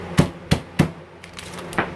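A hammer striking pecans still in their package, three sharp, evenly spaced close thuds followed by a couple of softer knocks, with no talk.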